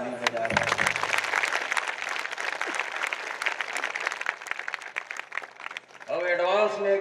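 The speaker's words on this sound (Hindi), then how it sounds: "सब पर ताली बजा रहे हैं।" A crowd at a political speech applauds in a scattered, crackling burst of clapping that runs for several seconds, with a voice speaking at the start and end.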